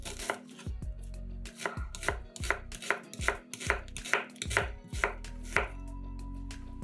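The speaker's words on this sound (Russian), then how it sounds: "Одну большую луковицу нарезаем полукольцами." A knife cuts one large onion into half rings on a board, giving about a dozen sharp, close chops in a steady rhythm with no talking.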